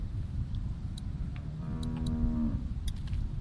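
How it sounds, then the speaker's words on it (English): A single drawn-out cow moo in The Walking Dead video game, heard at a dairy farm. The low call swells for about a second over a quiet background with faint ticking. "How do you like that cow, Clint?"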